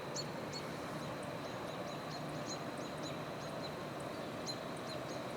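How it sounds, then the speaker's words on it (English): Robins give repeated short, high alert calls in summer woodland, sounding moderately distant over a soft, constant background hiss, with irregular bursts of several chirps and no talk. "the robins that I'm hearing vocalize right now"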